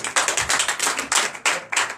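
A congregation claps in church during Sunday worship in Comè, Benin, with a dense run of sharp, uneven handclaps close by, about seven quick bursts over two seconds and no voices.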